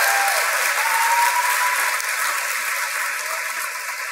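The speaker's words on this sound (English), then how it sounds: "Applause." A theater audience applauds at a book event, with sustained, even clapping from a large crowd that continues at steady loudness throughout.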